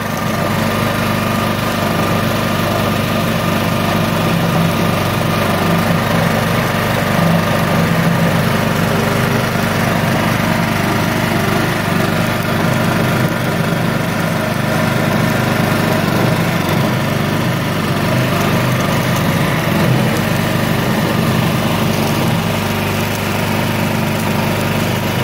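A portable generator runs steadily while it powers a 125-ampere welding machine, making a constant droning engine hum with no change in pitch or speed for the full twenty-five seconds.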